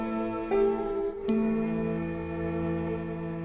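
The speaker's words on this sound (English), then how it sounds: "This instrument, using bells that make clear to dark and sublime sounds" A traditional instrument built from many bells, clear to dark in tone, rings out in struck, sustained tones: one strike near the start and a brighter second strike soon after, both decaying slowly and alone.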